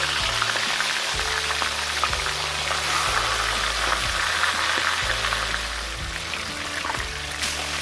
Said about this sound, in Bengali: উল্টে পাল্টে ভালো করে মাছের মাথাগুলো ভেজে নেব।